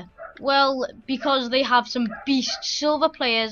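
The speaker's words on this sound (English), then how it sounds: "I do apologise for my dog again" A dog barks and yips in short bursts, mixed in and partly masked under continuous male speech close to the microphone.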